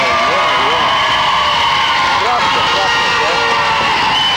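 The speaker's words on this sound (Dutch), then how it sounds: "wat mij betreft krijgen ze hier applaus voor" A studio audience on a Dutch television game show breaks into loud, continuous cheering and applause, a dense wall of crowd noise with a few voices whooping over it, close and sustained throughout.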